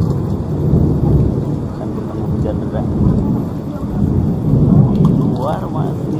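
Steady heavy rain pours down with low rumbling thunder rolling underneath, a thunderstorm heard from a sheltered spot while someone speaks briefly over the downpour.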